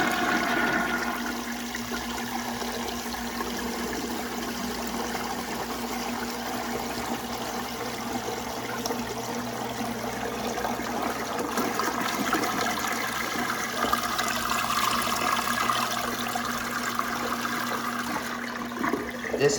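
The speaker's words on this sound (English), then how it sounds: "All right, here's another flush" A 1937 Standard compact toilet flushing from a full tank, a strong continuous rush of water sustained for about twenty seconds, close and loud with a steady hum underneath.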